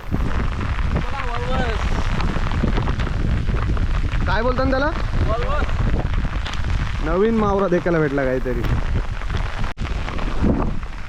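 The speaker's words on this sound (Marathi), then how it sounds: "मजबूत अशा पावसाची सुरुवात झाली" Heavy rain begins pouring down by a river in a dense, steady hiss that fills the whole scene, with people talking loudly over it.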